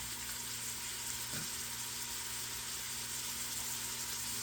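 About eight garlic cloves fry in a pan for a tomato sauce, giving a faint, even sizzle over a low hum, with one small stir-like bump.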